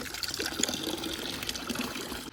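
Water runs steadily from a village water supply in a forest area, a soft continuous trickling and splashing stream heard close by.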